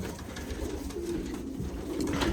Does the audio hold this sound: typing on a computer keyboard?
no